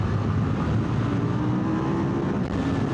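A KTM 990 RC R sports bike engine drones steadily and loud while riding a rough, bumpy road, with constant wind rush over the microphone and no pauses.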